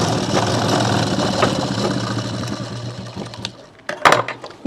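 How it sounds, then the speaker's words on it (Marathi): A sewing machine stitches fabric for a pillow cover made from an old bedsheet, running in a steady, fairly close whirring hum that slows and stops near the end, followed by a few sharp clicks. "जॉईन केल्यानंतर याला पण आपण तशीच सिलाई मारून घेऊया कापडाला"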